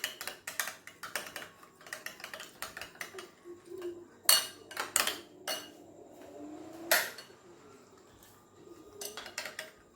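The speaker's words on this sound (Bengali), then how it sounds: "খুব ভালো করে ফেটিয়ে নিলাম।" A whisk beats chicken cutlet batter with water in a bowl, making quick, irregular metallic clinks and taps close by, some strokes louder than others, with no voices.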